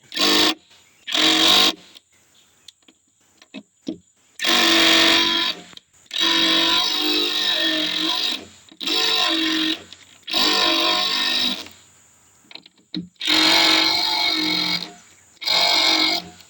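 A power drill backs screws out of a home-made wooden feed trough in a series of loud, rough whirring bursts, each about a second long, separated by short quiet pauses.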